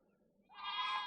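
Goats bleat loudly and close by in a homestead pasture, a drawn-out nasal cry rising out of a quiet background.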